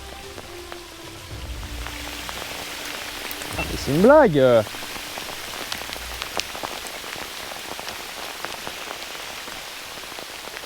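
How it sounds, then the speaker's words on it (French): Hail pelts down steadily during trout fishing on opening day, a dense patter of many small impacts throughout, with a brief spoken exclamation partway through. "Petite pêche de la truite sous la grêle."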